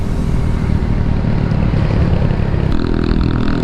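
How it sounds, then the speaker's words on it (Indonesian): A Suzuki Satria FU motorcycle engine running on Shell AX7 oil idles close by, a loud, steady, slightly rough putter that does not stop, with a faint change in tone near the end. "Jadi mesinnya ini nggak halus, nggak kasar, jadi tengah-tengah gitu."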